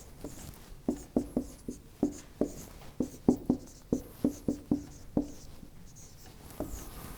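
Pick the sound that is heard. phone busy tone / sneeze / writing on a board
writing on a board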